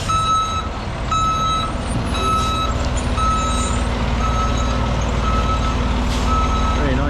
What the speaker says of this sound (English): One of our many Calgary fire trucks.